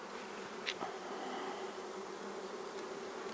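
Honey bees buzz around an open hive nuc on a chilly morning, a steady faint hum with a few brief closer passes and no talk.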